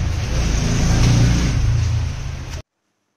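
A car rumbles and jolts over a broken road, a loud, rough engine and road roar close by that swells and then cuts off abruptly, with no talk.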